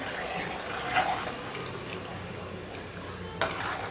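A spoon scrapes and stirs tomato sambar inside a metal pot with a soft bubbling hiss, two brief clinks against the rim standing out.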